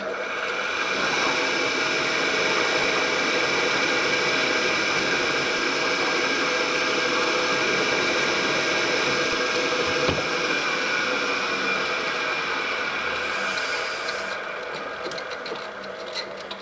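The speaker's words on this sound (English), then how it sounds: "And drill it out." A drill runs continuously with a steady high mechanical whine and grinding tone, easing slightly near the end, as it drills through thin metal shim stock.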